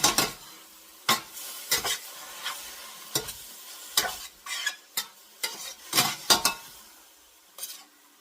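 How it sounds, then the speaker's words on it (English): Spinach wilting in a skillet with mushrooms, onions and olive oil gives a soft sizzle, punctuated by a series of sharp clinks and scrapes of a utensil stirring against the pan, with no talking. "all I'm doing really is just wilting this little bit of spinach"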